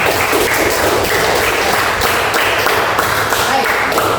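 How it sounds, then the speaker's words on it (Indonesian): Students clapping together in a classroom, a dense, loud patter of hands running throughout with some speech mixed in underneath. "Tepuk tangan juga lagi."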